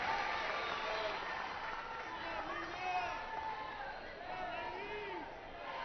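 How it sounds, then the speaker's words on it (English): A crowd at an NCAA softball super regional game between Arkansas and Duke applauds and cheers, heard as a broad, distant roar while a commentator talks over it. "And the crowd applauds."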